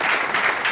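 An audience breaks into brief, loud applause at a talk, a dense burst of clapping with no speech over it.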